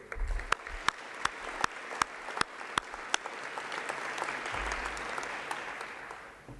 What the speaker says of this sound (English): Let's give a round of applause for Max and his team for their great work.